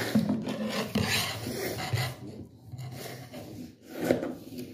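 Fabric being cut for a sleeve pattern, close rasping snips and rubbing strokes in a steady run for the first half, then quieter scattered cuts with one firmer snip near the end.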